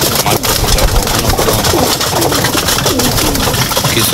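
Pigeons coo steadily throughout, a dense layered chorus of low throaty calls from a loft of birds kept and fed by hand, close and continuous with no speech over them.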